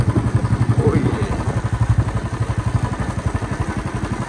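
A Royal Enfield Bullet motorcycle idles nearby with its distinctive slow, rhythmic thumping beat, a steady pulsing putter that continues throughout while someone speaks briefly.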